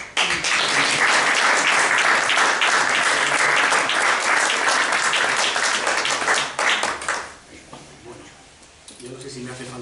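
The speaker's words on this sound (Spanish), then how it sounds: "nada mejor que un aplauso de hospitalidad" An audience breaks into loud, sustained welcoming applause at a journalism and politics talk, dense clapping filling about seven seconds before thinning out, followed by someone speaking.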